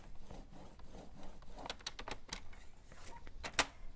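A scoring tool drawn along card stock gives a series of short dry scraping strokes, close and fairly quiet, ending in a sharper scrape.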